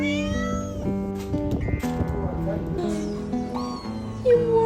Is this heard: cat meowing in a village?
yes